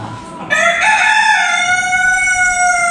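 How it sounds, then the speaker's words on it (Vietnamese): A long-tailed chicken crows once in a clear, loud, drawn-out call that holds steady before tapering off. It is heard close up, apparently indoors in an air-conditioned room. "Con gà mà anh đẻ từng ngăn hết ha."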